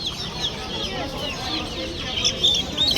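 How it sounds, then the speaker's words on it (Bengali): Chickens clucking at a busy market, close and fairly loud, with repeated cackles over a crowded background murmur. "এই যে এই মুরগিগুলো তো আপনার না?"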